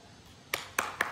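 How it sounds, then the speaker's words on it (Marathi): Three short, sharp hand claps ring out at a coconut-breaking ritual during a Ganpati prayer, each burst separate and fairly close, over a quiet background. "येऊ टाळ्या."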